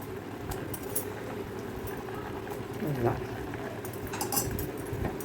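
A clay pot of dried-fish and yam curry bubbles and simmers steadily, with occasional light clinks of utensils and faint background voices.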